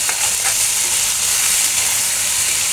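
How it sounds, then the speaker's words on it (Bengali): Shrimp sizzle loudly in a hot pan, a bright, steady hiss of frying with a few faint scraping sounds. "5 মিনিটের মতো আমি চিংড়িটা ভেজে নেব।"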